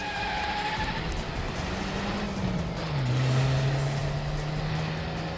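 A car engine drones steadily with a falling pitch, then settles into a lower hum as it pulls away, loud and close, without any talk.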